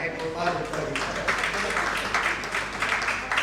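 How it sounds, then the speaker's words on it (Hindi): An audience gives a round of clapping after a Ramayana-themed recitation at a fashion event, moderately loud and sustained, with talk running over part of it. "एक बार जोरदार तालियां हो जाए"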